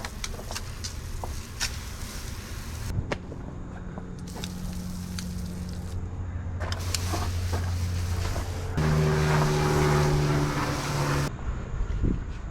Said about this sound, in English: I'd rather use as light pressure as I can from the pressure washer to rinse these off